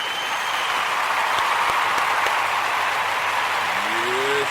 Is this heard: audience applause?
yes